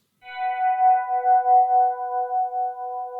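A soft synthesizer pad holds a steady, sustained chord, swelling gently with a slow wavering shimmer.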